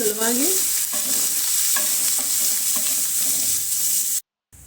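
Finely chopped onions sizzle loudly in a pan while a spoon scrapes and stirs them in short strokes over the continuous hiss of frying.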